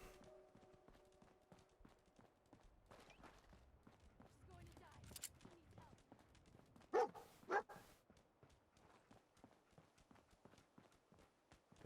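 Dogmeat, the companion dog in Fallout 4, gives two short, fairly close barks partway through, set against footstep-like clopping and game ambience, with a voice talking underneath.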